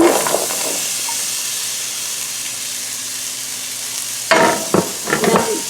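Patty melt ingredients sauté in a pan with a steady, even sizzle. Near the end, a few louder scraping stirs break through the hiss.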